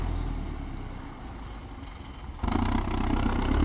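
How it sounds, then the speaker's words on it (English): A Belarus tractor engine runs on a Russian farm with a steady, low diesel rumble and clatter that suddenly grows louder and revs up partway through, then continues strongly. "And yes, this is a Belarus tractor."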